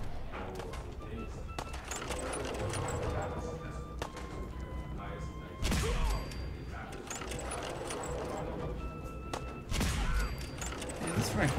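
Rifle gunfire in the video game Fallout 4: a run of sharp shots scattered through the stretch, two heavier reports standing out, set under fairly quiet ongoing talk.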